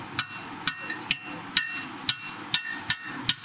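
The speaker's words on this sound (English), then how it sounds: "Then you chip away your flux." Flux slag being chipped off a fresh weld with a chipping hammer, sharp metallic taps in a steady rhythm of roughly two per second, close and clear with no talking.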